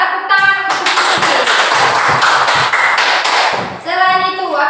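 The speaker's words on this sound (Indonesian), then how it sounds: "Tepuk tangan untuk Cindy." A classroom of students claps for a classmate in a quick burst of applause lasting a few seconds, with brief voices before and after.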